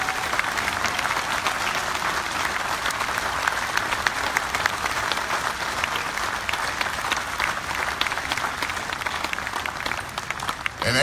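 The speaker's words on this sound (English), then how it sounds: "How about a round of applause?" Sustained applause from a concert audience honoring Captain Don Miller, an original Flying Tigers veteran, dense and steady for about eleven seconds with no talk over it.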